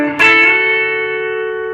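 On a B-bender electric guitar, the top two strings are down-picked together with the bender pushed fully up. The tone is twangy and slightly driven, a single strong attack that sustains steadily and close, with no talking.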